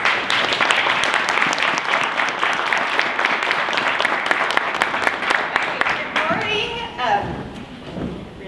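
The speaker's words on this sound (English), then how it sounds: "So come on up, let's give her a round of applause." Audience applause for a speaker at a business talk; sustained, loud clapping from a crowd for about six seconds, then it thins out and a voice starts speaking.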